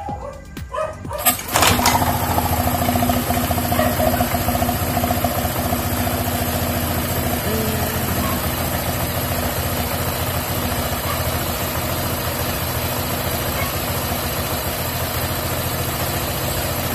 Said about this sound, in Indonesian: Itu suara V-belnya keras